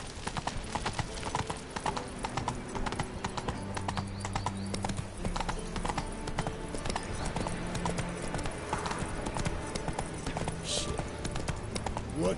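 Roach the horse's hooves clip-clop steadily in The Witcher 3, a continuous rhythmic trot with game music and voices talking over it.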